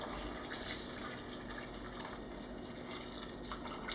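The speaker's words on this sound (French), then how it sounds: "On va mettre de l'eau à couvert" Water is poured into a pan over curry-spiced ingredients, a steady, faint gushing trickle that runs for the whole stretch with no talk.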